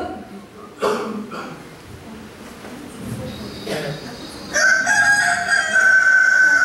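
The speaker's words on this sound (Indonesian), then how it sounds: "Pada saat ayam berkokok" Rooster crowing at a Good Friday church service, a loud, drawn-out cock-a-doodle-doo rising near the end over a busy room, with a voice and a short clucking sound before it.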